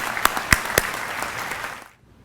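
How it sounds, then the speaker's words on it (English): Audience applause for county award winners at a summer graduation ceremony, a steady wash of many hands with a few sharper claps standing out, fading quickly to near silence at the end. "Let's have a round of applause for all of our county award winners."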